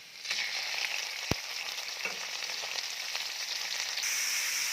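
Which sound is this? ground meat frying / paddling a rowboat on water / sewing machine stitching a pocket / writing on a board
ground meat frying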